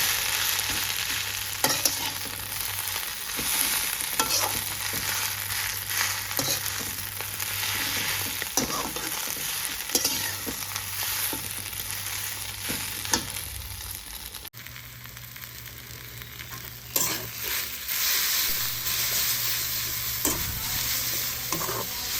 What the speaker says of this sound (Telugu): అదే కళాయిలోనే కొద్దిగా ఆయిల్ వేసి గోంగూర వేగించుకోవాలి